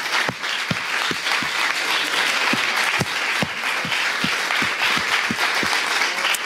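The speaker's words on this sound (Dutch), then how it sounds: "Maar voor de Bali Academie een applaus" A crowd applauds steadily, dense clapping filling the room with a few sharper individual claps standing out, loud and sustained throughout.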